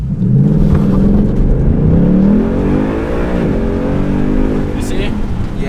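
A car on street tires launches hard from a brake hold, the engine revving loud and close with a rising then falling drone while voices talk over it.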